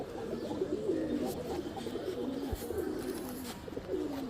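Pigeons coo in a low, rolling pattern throughout, several birds overlapping at close range, with no talk over them. Among them is a high-quality black male pigeon kept for breeding pairs.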